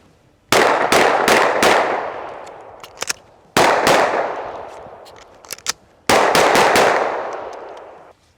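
Rapid handgun shots crack in three loud bursts, each volley ringing out with echo, separated by short pauses where a magazine is swapped during an emergency reload, with faint metallic clicks between the strings of fire.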